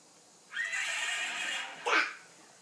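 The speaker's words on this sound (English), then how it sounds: "There's a horse." A horse gives a single clear whinny, a sustained neigh ending in a brief rising squeal. It is close and alone against a quiet background.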